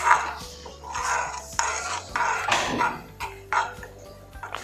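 A spoon stirring and clinking against a bowl while protein powder is mixed into oats, with irregular scraping strokes and light metallic taps, close and clear, no talk.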